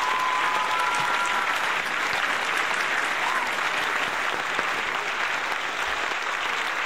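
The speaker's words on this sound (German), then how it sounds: "Applaus!" Sustained applause from a crowd at a live show, steady and even throughout with dense clapping and no voices standing out.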